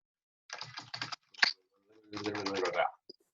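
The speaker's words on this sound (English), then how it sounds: "And then you would type in your answer." Typing an answer on a computer keyboard: quiet, close bursts of rapid key clicks in two runs separated by a brief pause, with a sharper click between them and a faint final tap.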